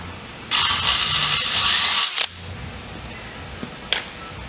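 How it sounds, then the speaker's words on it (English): A high-pitched power drill with a cutting-oiled bit whines steadily into a motorcycle exhaust pipe for under two seconds, then cuts off, followed by a couple of faint metallic clicks. "we'll drill into the pipe"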